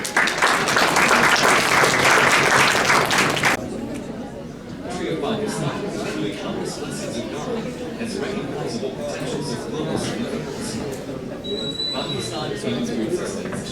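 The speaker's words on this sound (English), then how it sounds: "have a huge round of applause for all of you." A burst of loud applause from a crowd at a fundraising dinner lasts a few seconds, then fades into murmuring chatter and talk.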